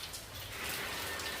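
Heavy rain falls steadily on a rainy morning walk, a dense, even hiss of drops on surfaces with no voices, soft and continuous throughout.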